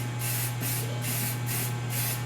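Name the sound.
spraying enamel from a spray can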